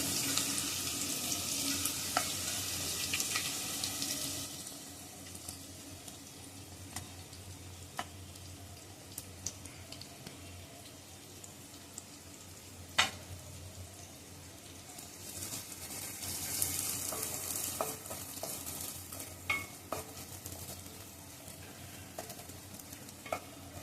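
Onions sizzle steadily in hot oil tempered with cumin and mustard seeds, a continuous moderate frying hiss with occasional stirring clicks and brief louder bursts, no voices.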